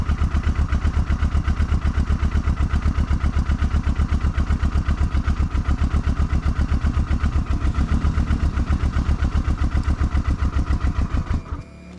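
A motorcycle engine on a remote Tibetan road runs with a loud, rapid, even chugging pulse for about eleven seconds before cutting out abruptly, with no voices.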